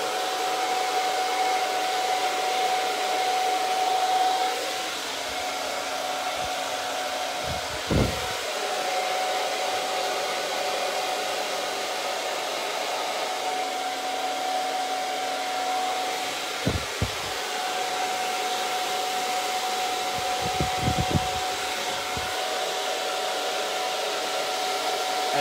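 Hair dryer blowing continuously and close during a short layered men's haircut, a steady roaring whoosh with slight shifts in pitch as it moves and a few faint clicks and handling bumps underneath.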